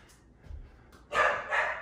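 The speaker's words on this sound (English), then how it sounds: "There's my dog Sadie cheering me on" A dog indoors during a home workout gives two sharp barks in quick succession, close and loud after a quiet stretch.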